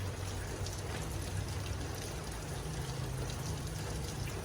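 Heavy rain pours down in a dense, unbroken hiss of drops on surfaces, steady and fairly near throughout, with a low rumbling undertone and no voices.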